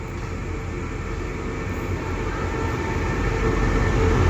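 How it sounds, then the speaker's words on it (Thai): Long-distance southern-line passenger train hauled by a QSY locomotive, a steady low rumble and rolling clatter. It slowly grows louder toward the end with no voices. "ได้หัวรถจักร QSY ยาว ๆ เลยนะครับ"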